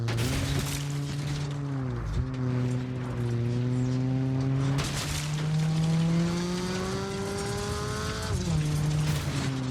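A car in the Saints Row video game drives hard with a steady, droning engine whose pitch rises and falls across several gear-like sweeps, joined by tire squeal and skidding, loud and continuous throughout.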